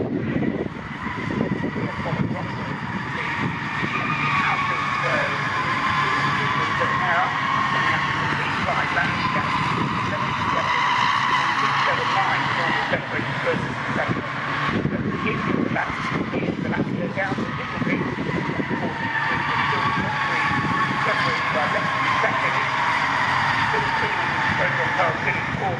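Citroen C1 endurance race cars lap Silverstone in a BRSCC race, their engines droning loudly and continuously with occasional tire squeal, under steady commentary from a race announcer.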